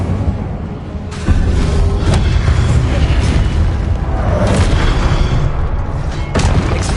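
An Incendio fire spell bursts loudly in the video game Hogwarts Legacy, a sudden roaring whoosh that keeps rumbling with repeated booming flares for several seconds.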